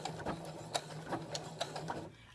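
A sewing machine back stitches stretchy tank top fabric in short uneven bursts, with ticking mechanical clicks and a low hum, close by, fading out at the end.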